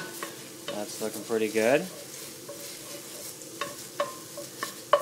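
Garlic sizzles steadily in a hot pan during home cooking of arroz con pollo, with a few stirring scrapes and clinks; a voice speaks briefly over the cooking near the start.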